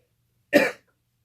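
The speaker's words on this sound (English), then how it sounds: "you do hear coughing" One short, harsh cough, close and clear, followed by silence.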